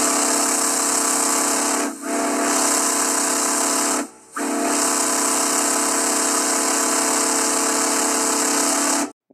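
A loud, sustained steam locomotive whistle, known as the whippoorwill, sounds in three long blasts with short breaks between, harmonious and piercing, ending abruptly.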